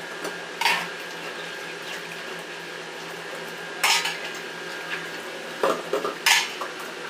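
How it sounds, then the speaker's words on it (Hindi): Dishes, pots and cutlery being washed by hand in a home kitchen, with repeated clinks and clatters of metal utensils over steady running tap water, close by and without talk. "अब हो गया बर्तन धोने के टाइम"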